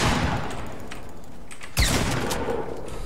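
Gunfire in the Fortnite Battle Royale solo mode: a faint spatter of shots early on, then one strong, booming report midway, with game ambience in between and no talking.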